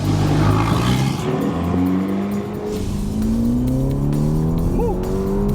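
A Ferrari sports car on a prize ride-along drives and accelerates hard, its loud, close engine note rising steadily in pitch through the gears with no talk over it.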